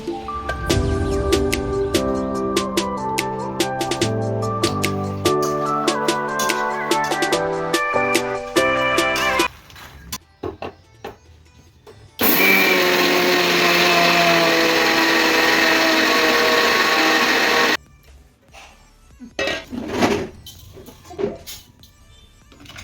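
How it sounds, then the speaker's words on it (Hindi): A kitchen grinder whirs steadily and loudly for several seconds as roasted flaxseed and makhana are ground. Music plays before and after, and the grinder stops abruptly. "यहाँ पे अलसी जो है पिस गई है।"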